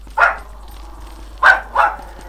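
In the Western shooter Call of Juarez: Bound in Blood, a dog barks three times, once and then a quick pair after a pause, sharp and fairly close over faint background ambience.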